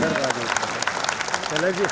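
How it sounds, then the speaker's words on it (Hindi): Audience applause for comedian Sunil Pal at a musical gala, a steady crowd clapping under a voice that talks over it and rises in pitch toward the end. "जोरदार तालियां प्लीज"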